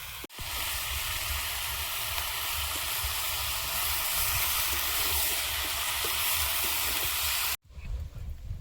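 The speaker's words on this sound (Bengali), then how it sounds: "শাকটা দিয়ে দেবো।" Spinach hits a hot pan and sizzles in a loud, continuous steamy hiss, close by, lasting several seconds before a brief pause and a softer resumption at the end, with no talking.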